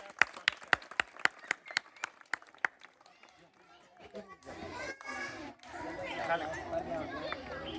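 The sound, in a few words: audience clapping at Savitribai Phule birth anniversary event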